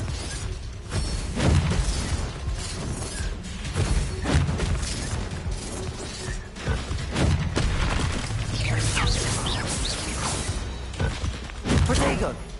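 Blasting-spell explosions from Confringo in Hogwarts Legacy, several booming, crackling bursts scattered through a busy stretch of spell combat, loud and close.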